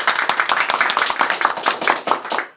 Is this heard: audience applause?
yes